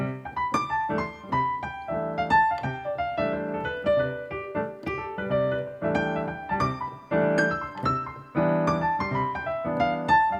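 Solo piano improvises a flowing, rhythmic jazz line of diatonic triad chords and melody notes, played steadily and clearly without any voices.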